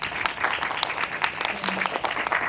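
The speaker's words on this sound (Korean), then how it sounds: "큰 박수 한번 부탁드릴게요." An audience claps after a rap performed on stage at a Korean hip-hop film screening Q&A, a dense, lively patter of many hands with scattered sharper claps, steady throughout.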